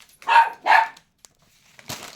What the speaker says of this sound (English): I can hear my dogs bark.